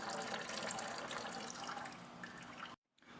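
Fluid draining from a Nissan oil cooler line into a bucket, a steady quiet trickling pour that stops abruptly near the end, followed by a faint return of background noise.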